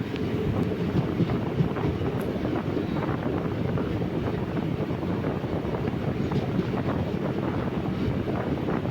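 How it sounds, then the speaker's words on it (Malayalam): A daily passenger train bound for Guruvayur rolls along with a steady, loud rumble and rattle that holds evenly for the whole stretch, with a touch of wind buffeting and no talk. "എല്ലാ ദിവസവും ഉള്ള ട്രെയിനാണ്."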